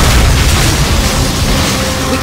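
Artillery strike explosions in the Call of Duty Finest Hour video game, Stalingrad setting, a loud sustained booming roar with dense low rumble filling the whole stretch.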